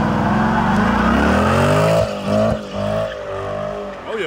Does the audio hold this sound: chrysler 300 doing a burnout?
yes